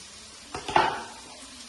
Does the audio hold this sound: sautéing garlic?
yes